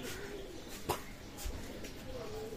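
Teddy pigeons coo softly in a quiet room, one low burbling call trailing into another, with a few faint clicks and rustles.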